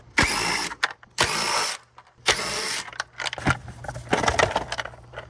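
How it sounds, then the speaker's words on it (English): A ratchet clicks in rapid bursts while bolts are removed in a Toyota engine bay during transmission removal, with metallic clatter and jangling between the nearby spurts. "Now we got 3 bolts down here to remove."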